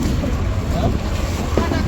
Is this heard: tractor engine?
yes